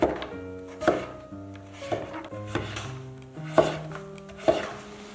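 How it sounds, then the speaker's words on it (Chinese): Peeled pumpkin is cut into small pieces on a board, a knife striking the wood in steady, distinct chops about once a second, close and clear with faint tonal music behind. "去皮之后呢，再给它切成小块。"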